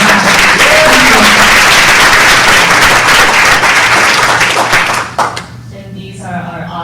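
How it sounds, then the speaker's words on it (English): An audience at a USC Startup Weekend event gives a loud round of applause, with dense clapping filling the room for about five seconds before it fades and someone starts talking. "one last round of applause for Joey over here"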